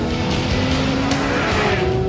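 A 2015 Porsche 911 GT3 RS slides on the Nardo track, its engine roaring loud and close while the tires squeal in rising, wavering tones.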